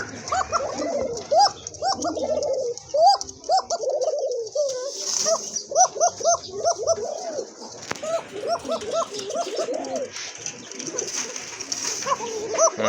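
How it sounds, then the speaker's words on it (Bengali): Arabian pigeons coo repeatedly in a steady, overlapping rhythm, close by, with a faint high hiss in the background. "দেখেন অস্থির লেভেলের ডাক যেমন কোয়ালিটি তেমন কিন্তু ডাক কবুতরের"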